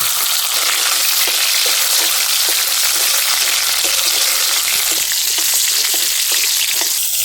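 Chopped tomato added to onions fried until reddish in a pan gives a loud, steady sizzle, with quick stirring clicks and scrapes throughout and no voices.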